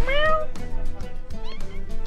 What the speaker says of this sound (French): il y a des chats partout